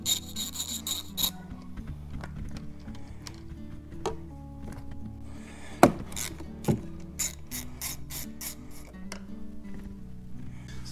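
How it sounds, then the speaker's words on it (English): A ratchet wrench clicks as it loosens 9/16 nuts on battery terminals for a trolling motor, with quick close bursts of pawl clicking broken by a couple of sharp metallic knocks. "Now I can go ahead and get these bolts off"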